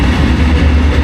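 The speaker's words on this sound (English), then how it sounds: "Okay, there's the train." A train passes close by an abandoned tourist restaurant in Hungary, a loud continuous low rumble that holds steady through the short span.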